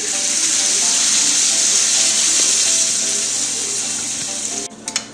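Water pours and splashes steadily into a cooking pan with a hissing rush, close by, then stops abruptly into a few small clinks.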